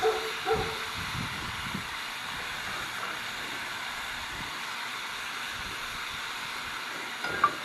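Noodles and teriyaki sauce sizzle on a BBQ griddle, a steady, soft, hissing sizzle that continues throughout with faint scraping touches.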